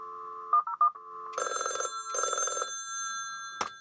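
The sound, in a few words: telephone ringing after USRobotics modem dials extension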